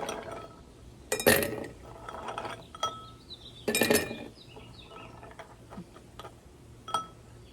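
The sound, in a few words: ice being added to a cocktail glass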